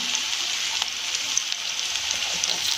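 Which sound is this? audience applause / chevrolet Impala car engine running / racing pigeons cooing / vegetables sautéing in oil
vegetables sautéing in oil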